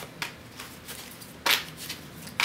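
Tarot cards are shuffled by hand in a quiet room, with three short, soft riffling bursts spaced apart and close to the listener.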